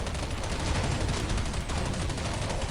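An MP5 submachine gun fires continuously in the online shooter Counter-Strike Online Zombie Z, a dense, loud rattle of rapid shots with no break.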